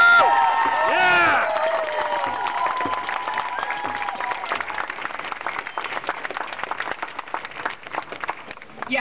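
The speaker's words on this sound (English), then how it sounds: "that totally deserves a round of applause" An audience at a G20 gathering bursts into cheers and whoops, then settles into steady, dense applause that keeps going, loud and close with a few shouts over the clapping.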